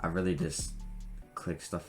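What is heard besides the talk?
No everyday noise stands out behind the speech.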